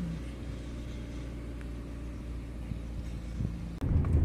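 A car travelling on a road in the Middle East during summer heat gives a steady low rumble from inside, with a louder burst of road and engine noise at the end.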